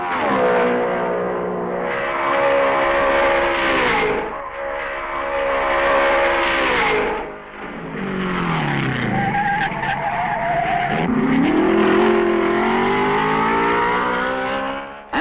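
1955 Mercedes racing cars at the Belgian Grand Prix roar past in loud, close sweeps, engine pitch rising and falling with each pass and gear change, alone without talk.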